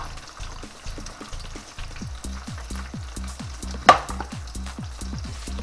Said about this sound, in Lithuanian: Ir ant didelių dujų kepsim